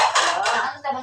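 Plates and cutlery clattering at a birthday gathering with a tumpeng rice cone, a bright continuous jangle of dishes and metal utensils close by, with a short gap before one more clatter.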